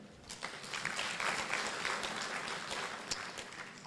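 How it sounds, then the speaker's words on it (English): A conference audience gives a sustained hand clap at a renewable energy conference, steady and fairly distant, with no talk over it. "And they deserve a hand clap."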